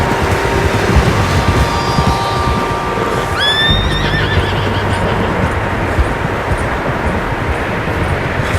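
In the video game Red Dead Redemption 2, a horse lets out a loud, clear whinny midway through, set against steady outdoor ambience and soft hoof clops, with no one speaking.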